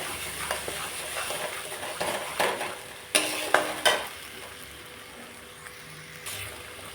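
Spice masala with turmeric and salt frying and being stirred in a pan, a steady close sizzle broken by repeated spatula scrapes and a few louder knocks against the vessel.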